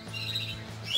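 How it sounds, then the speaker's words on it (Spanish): Pet yellow canaries in a breeding setup give a few close, thin chirps and squeaks over a low steady background hum, with no talk. "Mirad los pajaritos que tenemos por aquí de amarillo."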